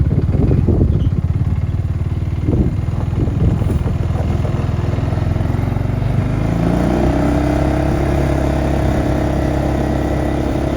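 A motorbike engine runs loud and close on a farm's top road, a steady rumbling idle with some irregular revving at first that settles into an even drone.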